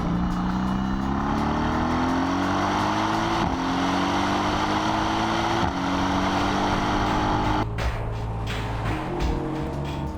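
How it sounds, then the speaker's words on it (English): A deep, rumbling twin-turbo V8 through the AMG Performance Exhaust of a 2015 Mercedes-Benz C-Class coupé drones steadily with rising pitch as it accelerates through gears, loud and close, ending with a brief crackle on lift-off. "This is a motoring musical instrument, the AMG Performance Exhaust System."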